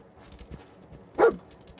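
A dog in the video game Fallout 4 gives a single sharp bark near the middle of a short, otherwise quiet stretch with faint background sounds.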